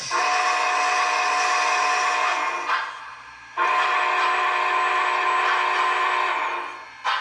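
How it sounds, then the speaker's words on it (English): A loud, sustained whistle from an HO-scale model Big Boy steam locomotive blows steadily, breaks off briefly, then sounds again at full strength before tapering near the end. "So I'll do that while the whistle is going so you can see that."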